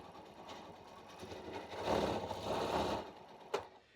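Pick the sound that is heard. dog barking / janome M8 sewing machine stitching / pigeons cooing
janome M8 sewing machine stitching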